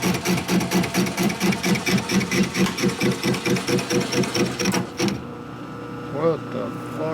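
A power tool's cutting bit, struggling and not cutting properly, grinds and chatters in a rapid, labored pulsing drone for several seconds, then cuts off, leaving quiet room noise with a faint voice.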